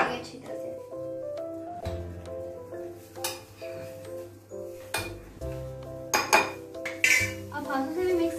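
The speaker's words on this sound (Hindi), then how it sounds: "अब हम इसे मिक्स कर देंगे अच्छी तरह से।" Chicken being mixed with chili powder in a bowl gives close clinks and scrapes of a utensil against the dish, irregular taps growing busier toward the end, with background music-like tones and no clear talk.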